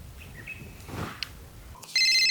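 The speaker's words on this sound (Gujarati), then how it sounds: "રમતાનો ફોન" A phone begins ringing near the end, a loud electronic ringtone cutting in abruptly after a quiet stretch of faint room noise.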